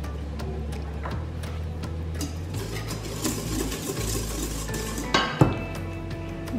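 Cake batter of natural yogurt and a pinch of salt mixed in a bowl, soft steady scraping and clinking of a utensil against the bowl, fairly close and quiet, ending in a couple of sharper knocks.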